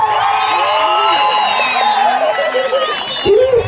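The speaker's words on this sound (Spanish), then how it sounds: "El aplauso es para Yolanda." A crowd at a jaripeo rodeo with roping cheers loudly, with whistles, shouts and scattered clapping blending into a lively, close roar, which swells into a short burst near the end.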